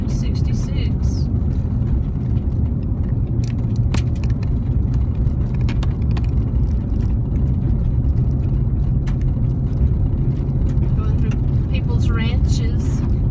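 A car rolls over a bumpy dirt and gravel stretch of Route 66, a loud, constant road rumble with scattered rattles and knocks from the cabin, and people talk over it.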